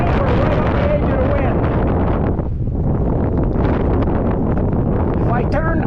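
Strong wind, around 15 knots, blows over a sailboat under sail, roaring continuously as heavy, close buffeting against the microphone for the whole stretch.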